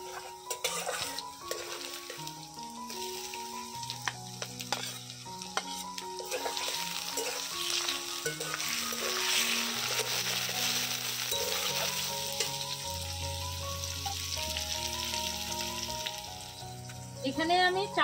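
Chopped tomatoes hit a pan of frying onions, with a constant sizzle and repeated scraping stirs of a spatula against the pan, all under light background music.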